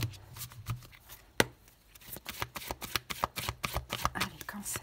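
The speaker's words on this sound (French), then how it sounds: "On laisse sauter la carte." Oracle cards shuffled by hand in a tarot-style reading, a few soft riffles followed by a quick, even patter of card edges slapping together, close and fairly quiet.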